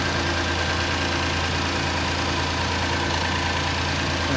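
A 2016 Kia Sorento all-wheel drive with a 3.3 liter engine idles steadily, a low, even hum with a faint ticking edge running continuously close by, with no voices.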